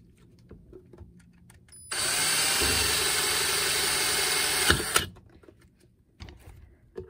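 A 5/8 inch spade bit drills through wood for a homemade lanternfly catcher, a loud steady high-pitched whine lasting about three seconds, with quiet handling noises before and after.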